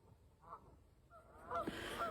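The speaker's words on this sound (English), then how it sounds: "Geese are all awake out there hollering at me." Geese honking out on a lake on a snowy North Carolina morning, a few faint calls at first, then a louder burst of overlapping honks toward the end, heard from a distance with no talk.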